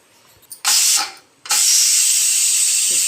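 A pressure cooker of pigeon pea dal releases steam in loud, close hisses: a short burst that fades, then a strong, sustained jet.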